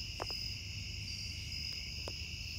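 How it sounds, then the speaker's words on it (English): A loud nighttime chorus of crickets and other bugs along Snake Road forms a steady, continuous high trilling that fills the air, broken by a few faint clicks. "It is so loud out here with all the bugs."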